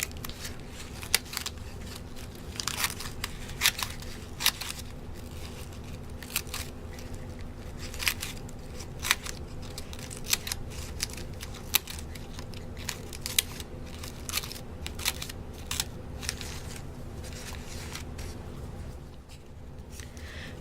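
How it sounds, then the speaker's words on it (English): Scissors cut through cardboard in a series of crisp snips and crunches, irregular and close, scattered over a quiet room background for about twenty seconds with no talking. "it might have been easier to do the cutting before gluing it to the cardboard"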